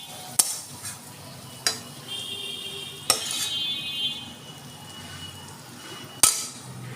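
Spicy taro curry scraped from the pan onto a plate, with sharp metallic clanks of the spoon against the cookware at irregular intervals and soft scraping in between, close by.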